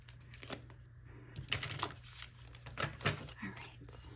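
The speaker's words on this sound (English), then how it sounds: "I'm going to shuffle these. I just don't want to mess up the cards." A deck of angel oracle cards is shuffled by hand, giving soft papery riffles and flicks in quick bursts, faint and close, with quiet breathy murmuring around them.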